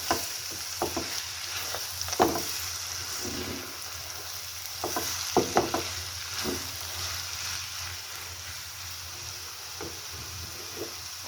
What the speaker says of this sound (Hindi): पिस्ता, किशमिश ये ऐड कर देंगे और अच्छी तरह मिक्स करेंगे और इनको भूनेंगे